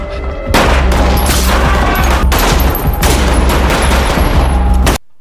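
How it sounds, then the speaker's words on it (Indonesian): A film shootout erupts in dense, loud bursts of gunfire, shots layered into a continuous rattling barrage for about four seconds before cutting off abruptly. "terjadilah baku tembak"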